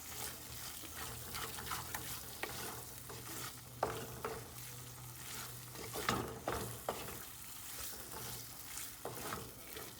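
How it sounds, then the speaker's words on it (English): Masala with onion, chopped ginger, chopped garlic and curry leaves stirred in a pan for Kerala fish curry, a soft sizzle under irregular scraping strokes and clinks, with a low steady hum in the background. "Let the masala, the onion, the chopped ginger, the chopped garlic, curry leaves, everything gets mixed well."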